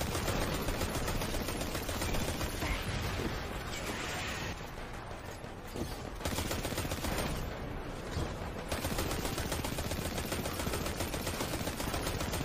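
Sustained rapid gunfire from Destiny 2 as shots land on enemy heads, a dense continuous barrage through the whole stretch with a brief dip midway, loud and close.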